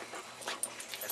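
A dog whimpers and yips faintly in a home, a few short high cries over low background noise.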